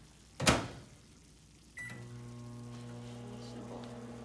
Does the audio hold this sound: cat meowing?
no